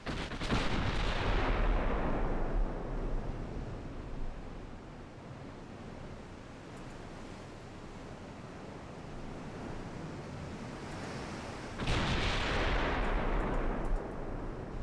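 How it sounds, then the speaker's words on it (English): Naval guns fire in the warship game Ultimate Admiral Dreadnoughts as deep, booming blasts that roll over a constant roar of sea and wind. One heavy salvo opens the clip and another strikes near the end, with no voices. "I want to bring my 6-inch guns to bear."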